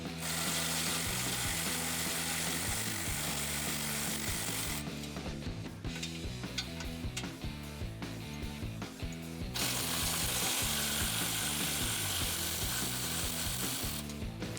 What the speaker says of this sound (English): I'm also using my electric impact.